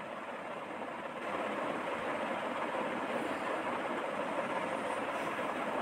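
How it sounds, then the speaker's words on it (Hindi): Onions fry in about two tablespoons of oil for a spicy bitter gourd (karela) sabzi, giving a continuous, even sizzle that jumps a little louder after the first second and then holds steady without voices. "ये थोड़े से ही तेल में प्याज फ्राई हो"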